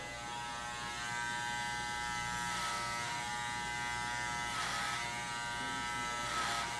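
Electric hair clippers running with no guard during overcomb work on a mullet cut give a steady, close, even buzz that holds for the whole stretch, with faint scratchy passes through hair.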